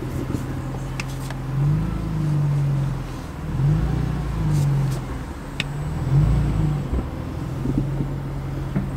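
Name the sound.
BMW M3 car accelerating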